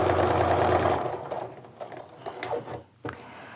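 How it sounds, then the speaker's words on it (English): A sewing machine stitches a quilt seam with a steady close whir for about a second. Then it slows into softer, uneven mechanical ticks and taps. "I'm just going to sew down to complete the seam."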